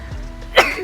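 A single short sneeze, near and fairly quiet, a brief burst of breath rising out of low room noise.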